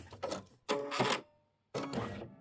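An embroidery machine stitches in short mechanical bursts, with three separate runs of rapid chattering separated by brief pauses, close and moderately loud.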